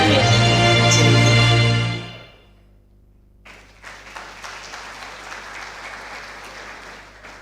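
An audience at a South-South community engagement awards event applauds loudly over a tonal music bed. The clapping fades out after about two seconds, and a quieter, patchier round of clapping and crowd noise follows.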